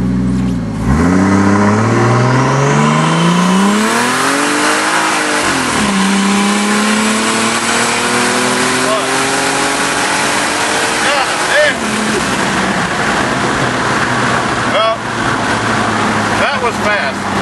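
A 2JZ-swapped truck with a T67 turbo revving and accelerating hard through repeated rising pulls. The engine note climbs and drops between gears, loud and close throughout, with occasional voices underneath.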